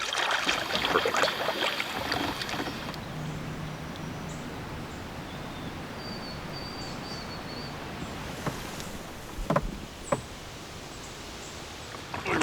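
A kayak paddles along the Neuse River, soft water swishes and paddle strokes under steady wind and open-air ambience, with a few louder splashes near the end.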